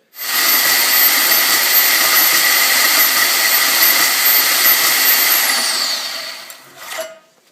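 A portaband portable bandsaw cuts through angle iron with a loud, steady whining hiss for about six seconds, then winds down with a falling pitch and stops.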